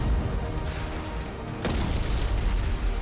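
A mortar shell strikes an enemy ship in the naval game Abandon Ship, giving a deep, dense boom that swells partway through and rumbles on over continuous loud battle noise.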